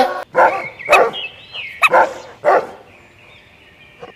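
A dog gives several short, sharp barks in quick succession, with faint whines or chirps between them, close by.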